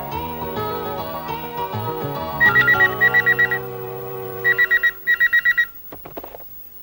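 A telephone rings in repeated electronic bursts, several quick trills grouped in two pairs, over a background of sustained music, with no talk.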